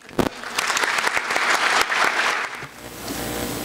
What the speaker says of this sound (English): Ladies and gentlemen, please give him a big round of applause, Dr. Zakir Hussain.